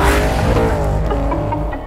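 A Ford Mustang Shelby, built for a street race and modified with an all-aluminium engine, revs hard and loud with tire squeal and skidding layered over the roaring engine, close and sustained throughout.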